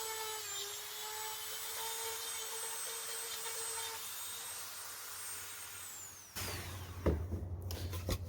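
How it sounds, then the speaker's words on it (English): A Dremel rotary tool with a small tip cleaning out a crevice in a wooden bench seat, a steady high-pitched whine with a shifting pitch that drops near the end, then rougher grinding bursts, close and loud. "I'm going to use this tip here, and so I can get down in that crevice and clean that out good"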